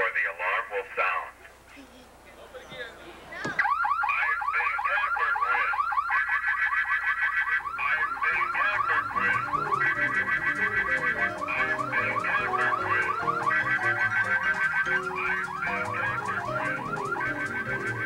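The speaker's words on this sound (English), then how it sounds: "Step back or the alarm will sound." A 1992-era vehicle security system gives a spoken warning, then a loud car alarm starts and cycles through repeating electronic chirps and warbling siren tones for a long stretch.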